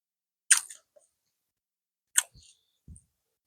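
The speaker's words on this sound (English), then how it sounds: "While I'm chewing." Someone chewing on food they overcooked: a couple of wet, crunchy bursts of mastication with brief low squishy thuds between them, close to the mic and otherwise quiet, with no talking.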